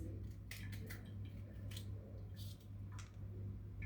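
Washed seasonal fruit sliced in half with a knife, several short crisp cutting clicks and squishes scattered over a low steady hum, quiet and close.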